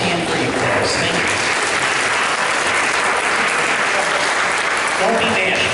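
Sustained, dense applause from a room of attendees at a chapter meeting, greeting first-time visitors. The clapping stays loud and even throughout, with no break.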